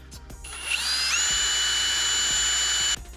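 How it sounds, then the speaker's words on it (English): A power drill fitted with a drill bit mixes resin and milled fiber for making carbon fiber parts, spinning up with a rising whine and holding a steady high-pitched hum for about two seconds before stopping. "I'm just gonna use my drill bit."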